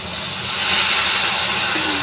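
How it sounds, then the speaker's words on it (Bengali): Water is poured into a hot pan of cooked onions and bursts into a loud, steady sizzling hiss of steam up close, with no talking over it. "এইবার আমি জল দিয়ে দেবো"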